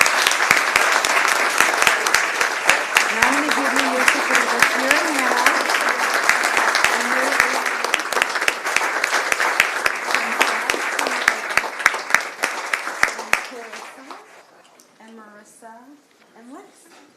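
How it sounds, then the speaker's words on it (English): Sustained crowd applause fills a city council chamber in Springfield, dense clapping that thins out toward the end as someone speaks over it. "So can we all give them a round of applause?"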